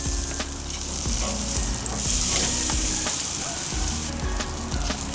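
A reverse-seared tomahawk ribeye steak sears over charcoal on a Weber kettle grill with cherry wood, giving a close, steady loud sizzle and crackle with faint pops throughout.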